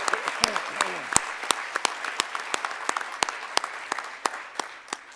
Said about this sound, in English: Let's just give our nominations a round of applause.